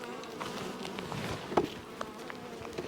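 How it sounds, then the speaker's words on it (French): Wasps swarm inside a beehive nucleus box, their buzzing close and continuous with a few sharper passes and bumps against the wood. "il y a des guêpes partout dedans"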